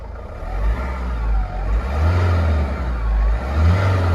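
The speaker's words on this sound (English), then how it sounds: "Let's give it a little rev." A cold Vauxhall Vivaro 2.5 CDTI diesel van engine revs up from idle in a few swelling pulls, close and fairly loud, with low mechanical drone between revs and no talking.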